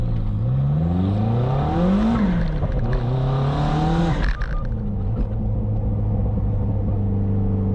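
A Lotus Esprit engine revs up with rising pitch, drops back and climbs again, then settles into a steady loud drone; no talking.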